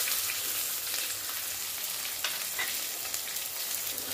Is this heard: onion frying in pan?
yes